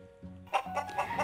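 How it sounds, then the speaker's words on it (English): Chickens on a farm give a few short, close clucks, two or three quick calls in a row, fairly clear against a quiet background. "chickens clucked"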